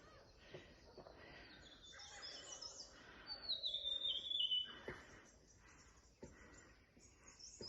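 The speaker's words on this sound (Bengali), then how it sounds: "চারপাশে পাখির আওয়াজ।" Birds chirp and tweet around a hillside homestay near a Lepcha monastery, several quick bright calls with one clear trilling burst midway, fairly faint against a quiet outdoor background.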